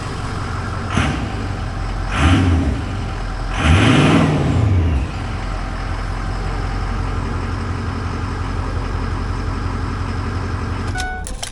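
A 2004 Ford F250 Harley Davidson with a 6.0 Powerstroke diesel idles with a low rumble, then is revved twice in quick succession, each rev swelling and falling back to idle, followed by a long steady idle.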